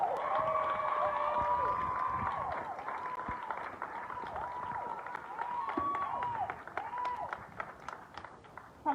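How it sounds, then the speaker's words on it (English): A crowd at a Black Trans Lives Matter gathering claps and cheers for a speaker, with raised voices and whoops over continuous applause that gradually thins out. "Give a round of applause for Regina Livingston, the owner and founder"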